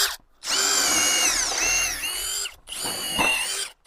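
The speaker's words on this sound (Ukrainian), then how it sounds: "Сверлить, сверлить. В принципі, норм." A power drill fitted with a 1/4 inch coral-head bit whines loudly in two bursts, the pitch sagging as it bites into the material, with a short pause between runs.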